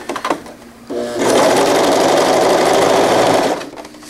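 A sewing machine top stitches a zippered wetbag, starting with a few uneven stitches and then settling into a loud, steady, close mechanical whir that holds for a couple of seconds before stopping. No one speaks.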